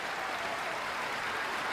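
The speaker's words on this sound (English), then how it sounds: "All three of my applause samples plus 35 more" Dense applause sample broadcast on a radio show, a steady wash of many hands clapping with no breaks, moderately loud and alone for the whole of its two seconds.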